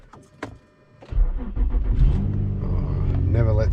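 A Subaru Forester XT cranks and fires up after sitting, with a short starter whir followed by a sudden loud engine catch settling into a steady close idle rumble; a person speaks quietly before and during it.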